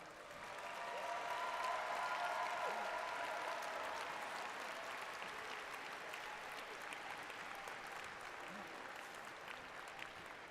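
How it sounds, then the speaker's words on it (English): A large crowd at a FIRST Chesapeake district championship robotics event gives a sustained round of applause for volunteers, swelling quickly then holding as a steady wash of clapping with some crowd noise, heard from a distance. "Let's thank the volunteers with a loud round of applause for all their hard work."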